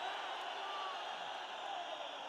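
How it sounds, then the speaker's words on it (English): A large arena crowd at an ACA 105 MMA event (Ospanov vs Mirzaev) keeps up a steady, distant roar of cheering after the fight ends, with no breaks. "Listen to that crowd, still going crazy."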